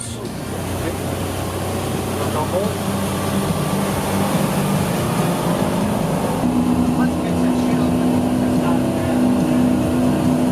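Twin new engines on a 37 ft Sunrunner motorboat drone steadily while leaving the marina, a loud continuous hum whose pitch steps up partway through as the throttle increases.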